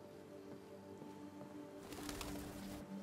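Pigeons or doves coo softly in the Detroit Become Human video game, a low, steady ambient murmur that grows into a slightly louder, noisier wash toward the end.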